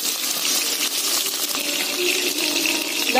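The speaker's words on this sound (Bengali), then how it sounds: "এবার আমরা একটুখানি জল নিয়ে নিলাম ওই আদা জিরের মধ্যে" Water poured into ginger and cumin on a grinding stone, a steady close gushing pour lasting a few seconds with no talk.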